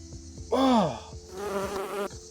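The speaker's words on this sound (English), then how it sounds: "just got stung by a bee" A bee buzzes close by outdoors, a loud droning hum that swells in two bursts, rising and falling in pitch as it passes near, with soft knocks underneath.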